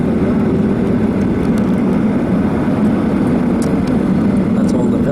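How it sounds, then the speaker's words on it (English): Steady, loud cabin drone of an airliner in flight at night, a constant low engine roar and airflow hiss filling the whole stretch without change. "Nighttime flight."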